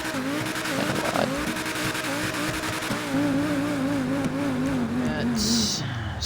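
A Progen supercar's exhaust in GTA 5 Online roars continuously, its engine tone wavering and rising as it revs. Faint squeals and a high whine show near the end.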